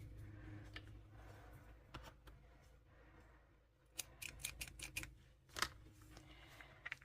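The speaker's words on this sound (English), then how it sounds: "I'm going to cut my yarn over here" Scissors snip through crochet yarn in a series of short, crisp cuts, clustered near the end over a quiet indoor background.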